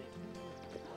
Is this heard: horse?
yes